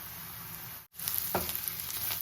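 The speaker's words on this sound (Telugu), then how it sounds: "ఆనియన్స్ బాగా వేగాయండి" Onions sizzle steadily in hot oil in a pan for a Telugu dosakaya (cucumber) curry, with a brief cut of silence before the frying resumes, close and continuous.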